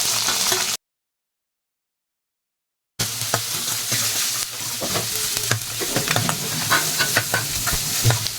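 Onion sizzles and fries in hot oil with popped mustard seeds, a steady close crackle broken by a gap of silence, then renewed frying with scraping stir strokes of a spoon across the pan.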